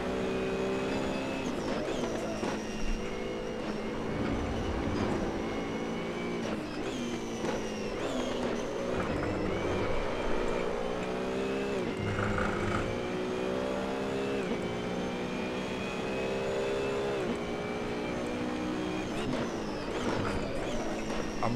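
A race car engine in Assetto Corsa roars at full throttle, revving high through repeated upshifts with sweeping rising pitch, loud and continuous throughout with brief dips between gears.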